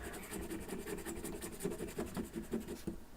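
Repeated scratching and scraping of a penny against a small metal film canister, scratching off its paint, a steady rough rasp close to the microphone with rhythmic strokes toward the end.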